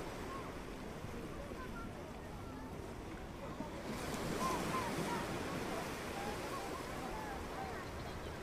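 Ocean waves on Ipanema Beach in Rio de Janeiro wash steadily ashore, a continuous surf roar swelling slightly midway, with wind buffeting the microphone.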